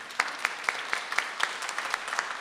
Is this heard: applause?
yes